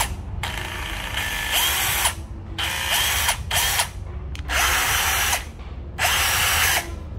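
A Hitachi cordless drill with a battery body and 10 mm chuck whirs in four loud bursts of a few seconds each, separated by short pauses, close up with no talking.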